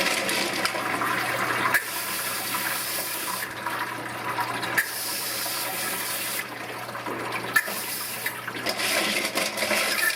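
Water runs steadily while tumbled Lahontan agates are rinsed, a loud continuous rushing splash with brief shifts in flow, close by and without talk.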